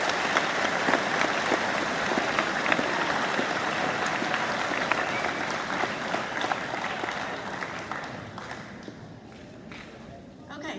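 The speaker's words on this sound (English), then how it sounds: "Let's give all these students a round of" Audience applause for students at a high school awards ceremony, loud dense clapping from a large crowd that carries on steadily and then gradually thins and fades toward the end.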